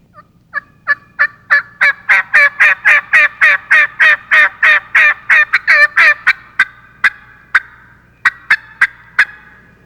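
A wild turkey in spring hardwood hills at daybreak gives a long run of about twenty rapid, evenly spaced calls that build, hold loud and clear, then thin out into a few scattered notes.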